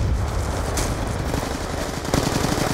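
Rapid automatic gunfire from a team-based shooter video game, a steady stream of close, loud shots rattling on without pause and with no talking over it.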